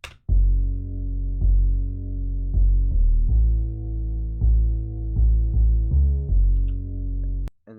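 Heavily compressed, driven and bit-crushed bass with the highs cut, made in FL Studio for a jungle/drum and bass track, playing a loud, sustained riff of repeated notes with sharp re-attacks and no voices.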